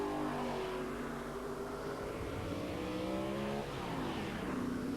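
TVR Tuscan race cars in a 1994 Tuscan Challenge race roar continuously, engines droning and shifting pitch as they pass close by, loud and steady for the whole stretch with no talk.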